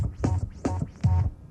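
Turntable scratching closes out a scratch routine, three repeated scratch strokes in an even rhythm, close and fairly loud, with no other sounds.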